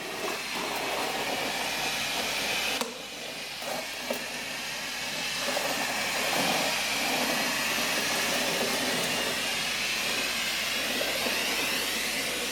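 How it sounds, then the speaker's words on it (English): A floor steamer gives off a steady, loud broadband hiss of steam that carries on unbroken, close by, with a brief dip early on and no talk. "but it's really steaming"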